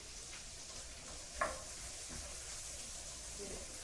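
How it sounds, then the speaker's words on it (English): Onions sweat with salt and pepper in a pan, giving a soft, even sizzle throughout with a brief stir or scrape in the middle; quiet and close. "Get that all sweated down together."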